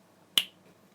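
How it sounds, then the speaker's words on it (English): A single crisp finger snap, sharp and close, ringing briefly before fading into near silence. "When my finger snaps, it's going to turn to Robotnik"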